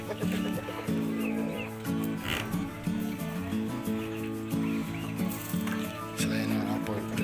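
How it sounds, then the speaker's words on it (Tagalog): Heritage-breed Rhode Island Red chickens cluck on a nest in a free-range poultry setting, with repeated, fairly close low clucking phrases and a few sharper calls over a steady background. "So ayan mga poultry, dadalawa natin."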